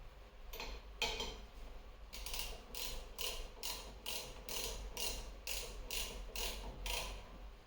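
Ratcheting clicks while a Scania XPI Euro 6 injector nozzle is tightened, a close run of about ten regular metallic ratchet strokes after a couple of earlier clicks.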